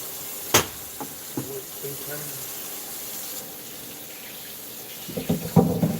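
Water running from a kitchen tap while dishes are washed up during a home baking livestream, a steady faint rush with occasional clinks and a louder splash near the end, mostly without talk.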